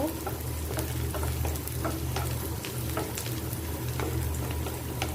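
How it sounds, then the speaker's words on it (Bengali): Chopped onion and garlic frying in oil for a potato mash, giving a continuous, even sizzle with occasional small crackles and stirring clicks, close by and without any talk. "পেঁয়াজ এবং রসুনটাকে আমি একটু লাল লাল করে ভেজে নিব"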